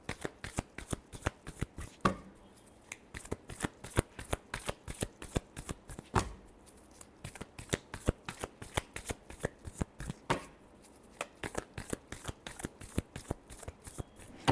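Tarot cards riffled in a continuous run of sharp, rapid flicks with brief pauses, close and clear, no voices.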